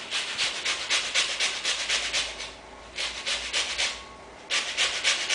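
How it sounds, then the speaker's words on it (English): Orange zest being grated into a bowl, a run of quick rhythmic scraping strokes in short bursts with brief pauses between them, close and fairly loud. "So use a grater and just grate the orange zest"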